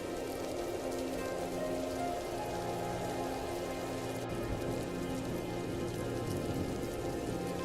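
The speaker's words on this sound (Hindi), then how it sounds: "बीच रास्ते में फिर बारिश शुरू हो जाती है।" Steady rain falls and patters on a surface, a constant even wash of drops with a faint low rumble underneath, no voices.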